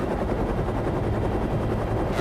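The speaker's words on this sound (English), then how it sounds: "when you hear it, you have no idea where the helicopter is. You just know it's somewhere above you." A helicopter flies above a canyon with walls over 300 feet high, a loud, continuous rotor thrum that echoes and fills the space without a clear direction.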